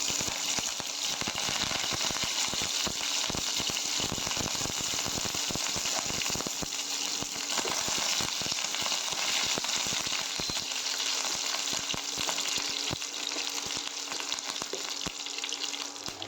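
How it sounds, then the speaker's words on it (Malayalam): Dried red chillies and curry leaves sauté in hot oil for a Kerala sadya-style mango pickle, giving a loud, steady crackling sizzle throughout with scattered sharp pops. "കൂടെ തന്നെ കുറച്ച് കറിവേപ്പിലയും കൂടി ചേർത്ത് കൊടുത്ത് വഴറ്റിയെടുക്കണം."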